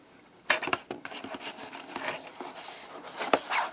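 A boxed etch chip processing vise is lifted out of its packaging, with close, quiet clinks, knocks and rustling scrapes in short irregular bursts.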